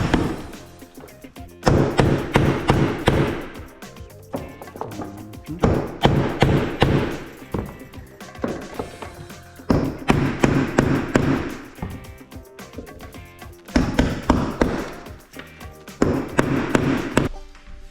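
A chisel and small sledgehammer tap hardwood floor pieces into place near a floor vent, in repeated bursts of sharp close thuds and knocks separated by brief pauses.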